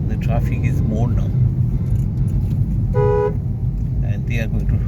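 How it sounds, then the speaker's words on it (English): Heavy traffic on the Mumbai–Pune expressway, a constant loud road rumble with several short car horn toots scattered through it and one sustained honk midway, heard from inside a moving vehicle. "The traffic is more now"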